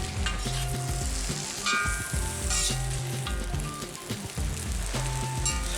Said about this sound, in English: Add the chopped mushrooms and stir it all around until the mushrooms are cooked